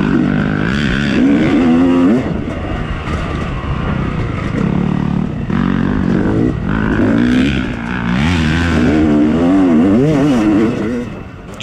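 A Yamaha YZ250FX dirt bike rips along a wooded single track at Durhamtown, its engine revving up and down loudly and close through repeated throttle bursts and gear changes.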